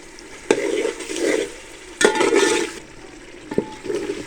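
Tomatoes being stirred and fried with a ladle in a pot for potato-and-pea layered biryani, with three distinct scraping strokes against the pot over a soft, steady sizzle.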